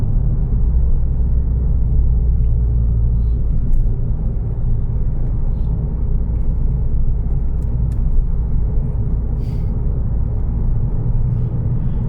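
Steady low rumble of a Ford Mondeo ST220 driving through a village, heard from inside, with constant road and engine noise and a few faint clicks.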